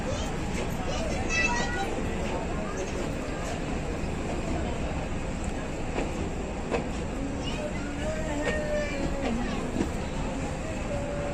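A meter gauge passenger train pulls out of Bichhiya station near dense forest, producing a continuous rumbling roar of rolling wheels and carriage noise with faint squeals and clanks, steady and loud throughout.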